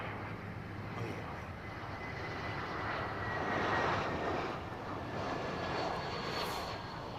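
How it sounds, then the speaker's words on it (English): A United Boeing 777 with GE engines takes off at London Heathrow, a faint, distant jet roar that swells gradually to a peak midway and then eases, with no voices. "what is going up is that beautiful old 777. I think she's a GE powered United jet."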